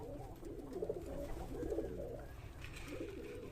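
Pigeons coo inside a pigeon loft in the morning after rain, soft repeated throaty calls in slow overlapping bursts against a steady low background hum, with no talking.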